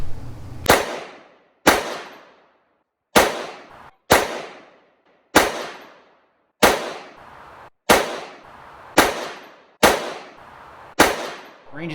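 A SIG P365 pistol firing 115 grain MagTech ammunition on a range: about nine sharp, loud single shots spaced roughly a second apart, each ending in a short ringing decay.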